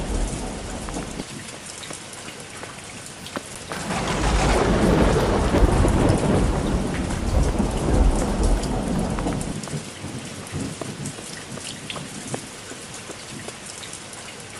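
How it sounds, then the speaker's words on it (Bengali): Heavy rain with thunder in a Bengali cartoon: a steady downpour swells into a loud, rumbling peak midway, then eases back to a continuous hiss, with no voices. "আরে প্রচুর বৃষ্টি পড়ছে, কোথাও গিয়ে একটু দাঁড়াই"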